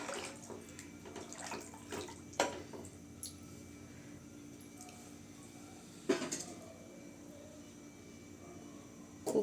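Water is added to rice in a cooking pot while making chicken biryani, heard as quiet intermittent splashes and trickles with a few sharper pours against a low background.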